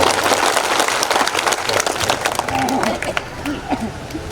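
A crowd claps loudly together, dense applause that thins into scattered claps with some voices underneath.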